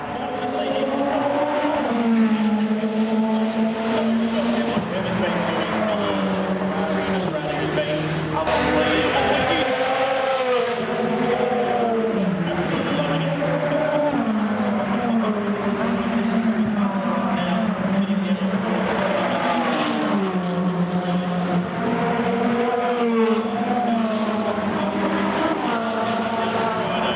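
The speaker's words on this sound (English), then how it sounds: "play this nice piece of the Ferraris going past, just so you can hear the engine sounds" Ferrari race cars pass by at the 2016 Australian Grand Prix, with loud, continuous engine roar rising and falling as the cars go past one after another, alongside crowd and track ambience.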